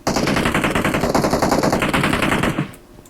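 Gunfire in the PUBG Mobile video game: a loud, rapid, continuous burst of shots lasting a few seconds before cutting off abruptly.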